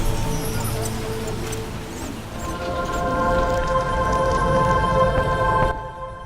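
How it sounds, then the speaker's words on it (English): Heavy downpour in The Witcher video game, a dense steady hiss of rain that builds slightly and then cuts off near the end, with no voices over it. "A real downpour."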